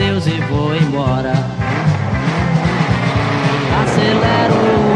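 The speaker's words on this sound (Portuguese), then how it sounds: "Acelero o meu carro" A car accelerating, with revving engine and tire squeal, used as a sound effect within a song, heard loud and continuous over the music.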